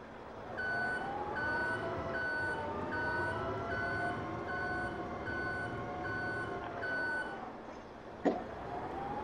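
A forklift in Farming Simulator 22 idles steadily after starting up, its engine drone continuous beneath a regularly repeating electronic warning beep, with a brief sharp knock near the end.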